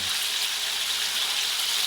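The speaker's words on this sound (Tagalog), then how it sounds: "Prito muna natin ng tokwa." Steady, bright sizzling of tofu frying in hot oil, even and continuous with no voices.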